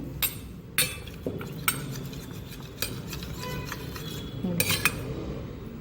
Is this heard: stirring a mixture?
yes